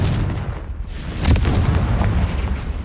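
A Confringo fire spell blasting in the Hogwarts Legacy video game, a heavy booming explosion with a rumbling tail that lingers, loud and close, with no voice over it.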